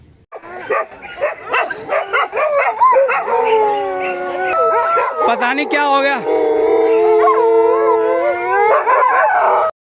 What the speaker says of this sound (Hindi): इन कुत्तों ने दूसरा कुत्ता देख लिया था तो इसलिए भौंक रहे थे